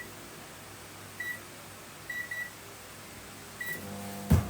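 A microwave oven hums steadily while a few short electronic beeps sound, two close together in the middle, then one more.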